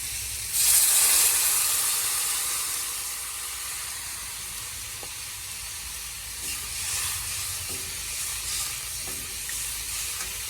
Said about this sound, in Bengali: পেঁয়াজ লঙ্কা আলু সব কিছু একসাথে ভেজে নিয়েছি আর জিরে ফোড়ন দিয়েছি এবার জল দিয়ে দেব